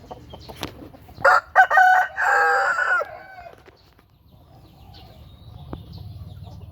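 A gamecock rooster crows loudly nearby, a long strained call preceded by a couple of short clucks, then quieter farmyard background.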